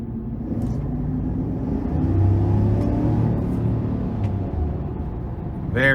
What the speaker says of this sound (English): And that dual exhaust sounds really good.